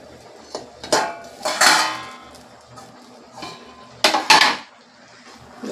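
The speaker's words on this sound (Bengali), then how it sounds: "এবার একটা থালা দিয়ে ভালো করে ঢাকা দিয়ে দেব।" A metal plate clanks down as a lid over a cooking pan of snake gourd and vegetables, giving several sharp, close clatters with quiet gaps between them.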